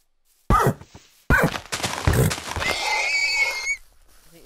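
A modded Minecraft horse being struck for leather gives two short thumping hits followed by a drawn-out whinny and groan, loud and close, with no talking over it.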